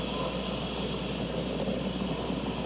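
SpaceX Falcon 9 rocket engines roaring at full throttle during a crewed Dragon launch, a steady broadband rumble that holds without a break for the whole stretch, distant and muffled rather than close.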